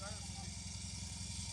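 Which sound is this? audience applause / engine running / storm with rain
engine running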